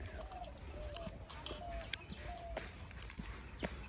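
Morning birdsong near Sigiriya, Sri Lanka: several short, faint chirps and whistles scattered over quiet outdoor ambience, with a few soft knocks and rustles nearby.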